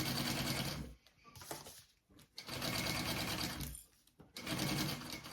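A sewing machine runs in steady bursts while stitching a fabric tote bag at a slightly shortened stitch length, with brief pauses between three long runs, close and fairly loud with no talking.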